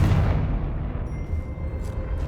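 A Confringo spell explosion in the video game Hogwarts Legacy, heard as a heavy low rumbling boom that keeps roaring and slowly fades, loud and close.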